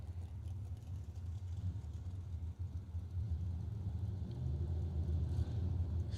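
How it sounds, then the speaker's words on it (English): Pair of drag racing dragsters at a SuperBucks Showdown event rolling back from their burnouts, a continuous deep, throbbing engine rumble at moderate distance, heard alone without talk. "So our first pair of dragsters make their way back from the burnouts."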